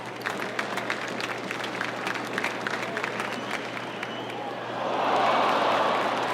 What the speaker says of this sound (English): Included are some field recordings of the crowd from the baseball game Sunday afternoon.